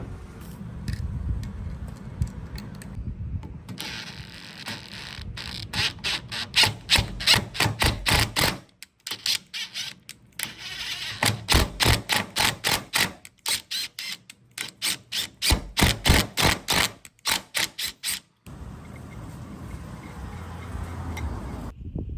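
Electric impact driver driving a lubricated tap to cut threads in a truck camper build, heard as loud rapid hammering bursts in several runs separated by short pauses, close up with no talk.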